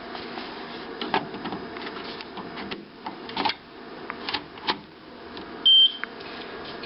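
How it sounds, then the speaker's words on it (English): An HP Designjet T1300 large-format printer gives a short electronic beep as an ink cartridge is installed, one clear tone near the end amid faint clicks and handling of the machine. "every time you successfully install an ink, the machine will beep."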